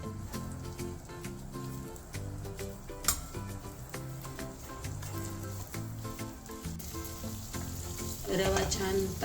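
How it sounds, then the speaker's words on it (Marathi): Semolina (rava) roasting in a cupful of ghee over a low flame for sheera prasad, a soft steady sizzle running throughout beneath prominent background music, getting a little louder near the end. "रवा छान तांबूस होईपर्यंत बारीक गॅसवर भाजून घ्यायचा आहे"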